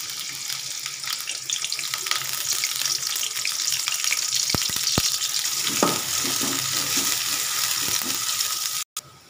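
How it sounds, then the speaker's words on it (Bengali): Chopped onion and garlic hit hot oil in a pot, producing a loud, continuous hissing sizzle with scattered scrapes and clicks of stirring before cutting off abruptly near the end. "এখন আমি পেঁয়াজ কুচি, রসুন কুচি দিয়ে দেব।"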